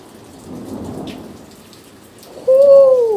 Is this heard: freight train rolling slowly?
no